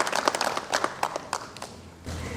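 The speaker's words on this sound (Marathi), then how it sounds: "आपण टाळ्या वाजवून त्यांचं अभिनंदन" A church congregation gives a short round of hand clapping, loose and uneven claps over about two seconds before it dies away into room noise.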